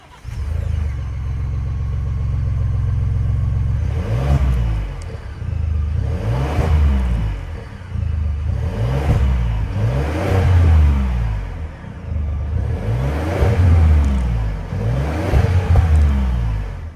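A 2024 Ford Expedition Max XLT's 3.5-liter twin-turbo EcoBoost V6 idles with a deep rumble, then is revved about six times in a row, each rev rising sharply and falling back, heard close and loud through a single-tip exhaust.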